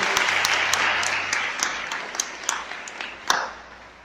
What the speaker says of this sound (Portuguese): Vamos dar uma salva de palmas aí para a palavra do Senhor